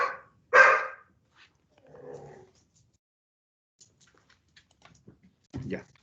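A pet dog barks a few times nearby, one loud sharp bark early and a shorter bark near the end, with faint scattered indoor noises between.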